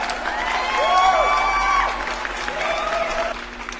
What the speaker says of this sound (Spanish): Un aplauso por favor a Pepe